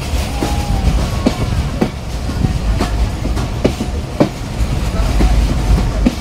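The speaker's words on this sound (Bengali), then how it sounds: "আর আমরা অ্যারাইভাল নিচ্ছি আব্দুলপুর রেলওয়ে জংশনে।" The Banglabandha Express, an old-coach passenger train, rolls into Abdulpur railway junction with loud, close, rhythmic clickety-clack of wheels over rail joints, deep rumbling and occasional faint wheel squeal.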